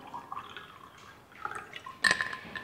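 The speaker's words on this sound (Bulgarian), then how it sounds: "В тези чашки аз ще си налея отново чешмяна вода" Tap water poured into small cups, a soft trickling and dripping that builds to a brief brighter splash of filling near the end, close and fairly quiet.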